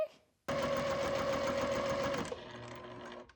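A sewing machine runs in one fast, steady burst of stitching as quilt pieces are joined, close and loud, then slows and stops, followed by brief fabric handling; no speech.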